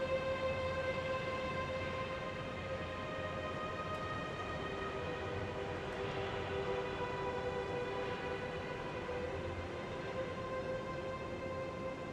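Steady rolling rumble of a departing video game train, with sustained tonal hum bands running evenly throughout at moderate level, no voices.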